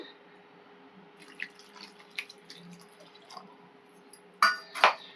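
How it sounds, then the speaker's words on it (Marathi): Water is poured from a small bowl into soaked sago in a kitchen, with faint drips and clinks before two short, louder splashing pours near the end. "पहिलं एक वाटीभर पाणी घालून घेते"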